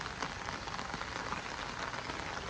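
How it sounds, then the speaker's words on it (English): Heavy rain pours down steadily outdoors onto a cooking fire and bubbling pot of chicken foot pumpkin soup, a dense, even hiss of drops hitting surfaces with no pauses and no voices. "this rain came down harder than the first time"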